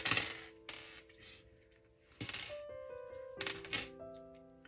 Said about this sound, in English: I'm going to have to take all the keys off to get to the key I want